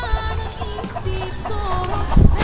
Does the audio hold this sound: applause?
no